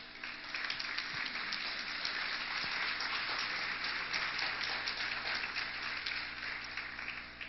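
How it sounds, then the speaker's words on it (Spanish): Sustained applause from a church congregation, a dense, even crackle of many hands clapping at steady loudness throughout with no pause. "Un aplauso a Dios"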